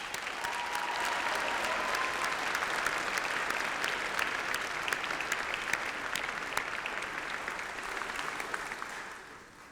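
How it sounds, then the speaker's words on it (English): A large audience at a university graduation ceremony gives a sustained, even round of applause, a thick roar of clapping in a big hall that holds strong for most of ten seconds before fading away at the end. "Please join me in giving them a massive round of applause"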